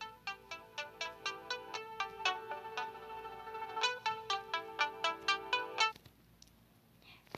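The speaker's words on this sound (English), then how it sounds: "that was my alarm on my phone" A phone alarm melody rings out in a steady run of bright, repeating chime notes, fairly close and clear, then stops abruptly near the end, leaving quiet room tone.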